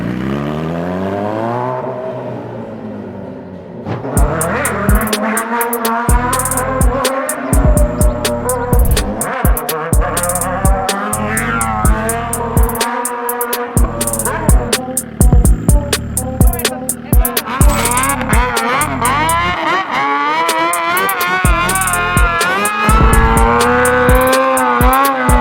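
A Suzuki SRAD 1000 motorcycle (2010–2013) fitted with a Hurricane Evolution sports exhaust, idling briefly before being revved hard over and over, with loud sharp blips, rising and falling revs and crackling bursts close by.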